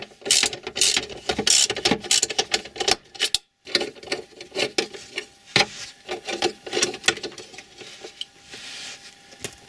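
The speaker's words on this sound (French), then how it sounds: "j'ai gagné accès à ces deux écrous que je vais enlever" A ratchet wrench removes two 10 mm nuts from a car dashboard, rapid clicking ratchet bursts close by, broken by short pauses and a brief silent gap, with no talking.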